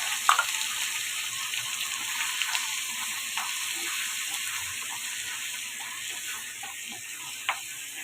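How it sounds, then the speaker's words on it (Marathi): Ground Malvani masala paste sautéing in oil in a home kitchen, a steady close sizzle with faint clinks of utensils and no talking. "तर तेलावर परतून घेते मी"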